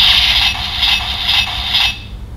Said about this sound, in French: Donc ça, c'est plutôt des sons de sabre.